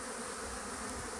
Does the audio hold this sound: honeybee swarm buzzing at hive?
yes